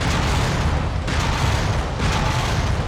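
Mech weapons firing in the MechWarrior 5: Mercenaries video game, a heavy barrage of booming blasts and rumbling impacts that continues loudly and densely throughout, with no voice heard.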